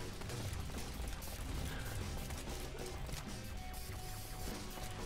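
Faint rapid gunfire crackles in a zombie survivors video game as team members shoot, with dense overlapping bursts, clattering impacts and game mechanisms throughout, no talk.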